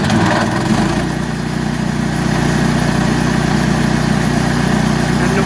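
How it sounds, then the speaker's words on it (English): A sawmill engine runs loud and close, rising steadily in pitch as an automatic throttle engages, then holding a strong, even drone with no talking. "When I turn that on, you'll see that move and the engine rev up."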